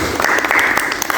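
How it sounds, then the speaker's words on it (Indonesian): Applause from a podcast studio audience greeting a newly arrived guest, a brief dense burst of clapping, close and fairly loud, with a voice faintly underneath. "Tepuk tangan."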